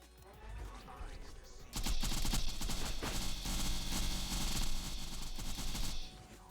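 Rapid bursts of gunfire fill a video game fight in the Azurelands 2 mod, a dense, loud automatic barrage that swells after a quieter start and fades near the end.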